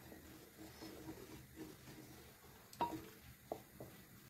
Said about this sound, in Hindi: अब मैं इसे चलाते हुए लो मीडियम फ्लेम पर 5 से 7 मिनट के लिए और पका लूंगी।